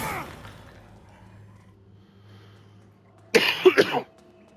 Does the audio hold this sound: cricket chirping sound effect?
no